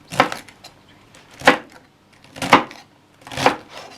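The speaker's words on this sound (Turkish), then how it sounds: "Şimdi ben bunları doğramaya başlayayım." Four separate knife chops strike a cutting board, cutting beans at an unhurried, slightly uneven pace, each a short crisp knock with quiet pauses between.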